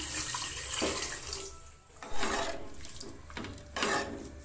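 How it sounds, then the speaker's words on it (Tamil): Soaking water is poured back over rice in a cooking pot while making fenugreek rice. The splashing pour is steady, comes in a few bursts with brief pauses, and is close and clear with no voices over it. "தண்ணி ஊற்றிக்கலாம் ஊற வச்ச தண்ணியவே ஊற்றுறேன்"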